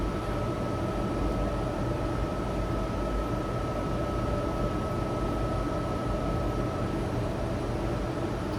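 Aircraft engines hold a steady, broad roar with a sustained whine running through it, constant and unbroken throughout, heard in an Emirates flight training setting with the thrust levers pushed forward.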